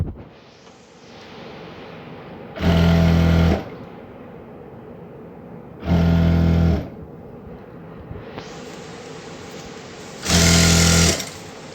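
A sewing machine stitching fabric runs in three loud, buzzing bursts of about a second each, separated by quieter stretches of room hiss.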